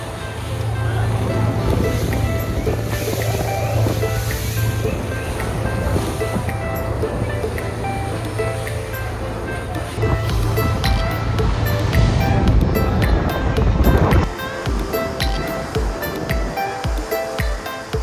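Open sea water near Dubrovnik, Croatia, lapping around swimmers floating beside a boat: a steady rushing wash of waves and wind with bursts of splashing, and muffled voices in the background.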